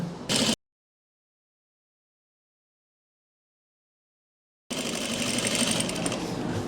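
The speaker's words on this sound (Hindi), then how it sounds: "बेल्ट को ऐसे फोल्ड करके अब किनारी पे सिलाई लगा रहा हूँ" A sewing machine stitches along the folded belt edge of palazzo pants in two bursts, a short whirring run at the start and a longer steady one near the end, separated by silence.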